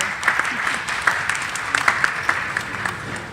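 Audience applause fills the room at a science and art event, a dense, moderately loud patter of many hands clapping steadily for several seconds with no talking over it.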